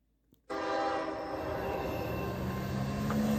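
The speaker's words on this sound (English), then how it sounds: "This K630 consisted of a pair of Canadian Pacific GE ES44ACs." Canadian Pacific GE ES44AC locomotives roar past close by after a sudden start, a loud, steady rumble of engines and rolling railcars with a horn-like tone running underneath throughout.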